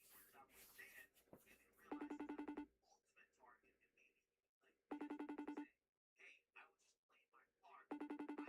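An outgoing phone call rings with repeated beeping tones in three evenly spaced bursts, separated by stretches of quieter talk and background voices.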